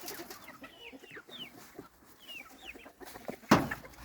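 Chicks and turkeys in a coop, giving soft scattered peeps and clucks at close range, with a louder sharp call near the end.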